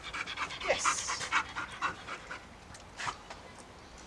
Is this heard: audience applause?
no